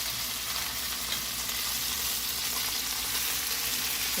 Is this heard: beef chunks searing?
yes